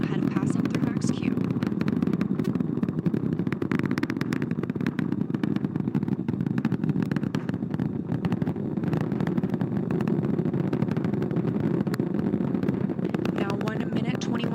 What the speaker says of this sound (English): The 4 core stage engines are throttling down ahead of passing through max Q.